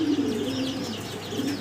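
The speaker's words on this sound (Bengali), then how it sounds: "গুগু পাখির পেয়ার।" Fancy pigeons kept for sale coo close by in a low, rolling, repeated call that fills the whole short stretch.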